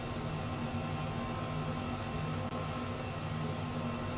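An Airbus H135 helicopter hovers over a river in Microsoft Flight Simulator, giving a steady, loud, continuous turbine and rotor drone with no talking.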